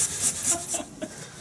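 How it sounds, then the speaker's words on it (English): Hand chisels pare wood from a bass guitar body cavity, giving a few short, faint scraping strokes in quick succession close by. "prepare the cavity with chisels"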